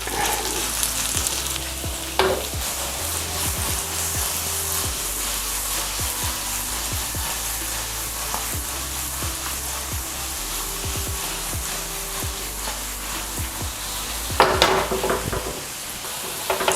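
Gnocchi frying in browned butter over high heat, giving a steady close sizzle throughout, broken by occasional sharp clinks and scrapes of stirring in the pan.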